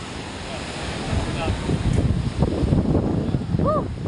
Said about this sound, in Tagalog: Abot pa na dito tubig. Oh, yan. Laki alon.